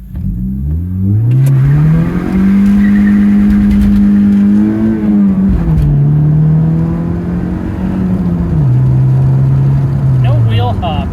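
A Honda Civic fitted with Precision Works engine mounts launches hard from a stop, its engine roaring loud and close and climbing in pitch, dipping at each gear change before pulling up again.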